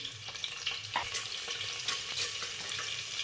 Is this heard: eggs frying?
yes